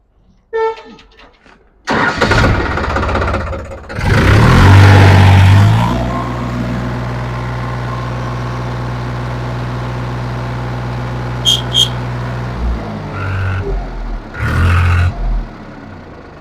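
A New Holland 3630 tractor diesel engine cranks and starts loudly, revs briefly, then settles into a steady close idle with another short rev later, while a voice talks over it.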